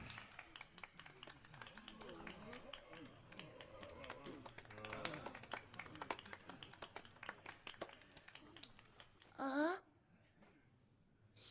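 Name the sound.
sparse audience clapping in a theatre, Professeur Layton video game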